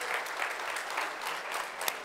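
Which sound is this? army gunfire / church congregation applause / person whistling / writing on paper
church congregation applause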